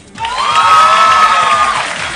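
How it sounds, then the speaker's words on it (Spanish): A TV talent show studio crowd in Peru cheers and whoops loudly, with children's voices shouting in a sustained rising cheer that fades slightly at the end. "con el aplauso del público"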